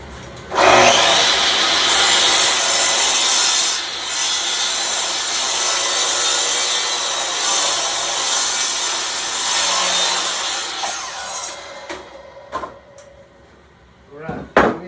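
Woodshop setting with an overhead dust collector switched on, a loud steady broadband rush filling most of the stretch, then it drops away near the end into a few knocks and handling clunks.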